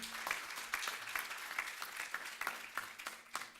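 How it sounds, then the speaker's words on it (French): Applause from a modest crowd at a 2014 eco-innovation awards ceremony in Burgundy, France, a steady patter of hand claps with some louder individual claps standing out, no talking over it. "Merci beaucoup, on peut les applaudir."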